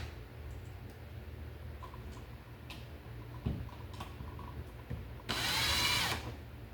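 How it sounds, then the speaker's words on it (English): Screws are driven into a back-wired electrical outlet, with a few small clicks and taps followed by a short, loud whir of a power driver close by. "and we put our screws in."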